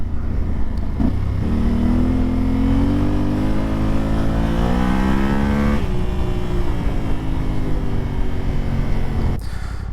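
An adventure motorcycle revs on the move during a Colorado ride, its engine rising through the gears with strong rising pitch and a shift midway, loud and close amid wind noise, with no talking.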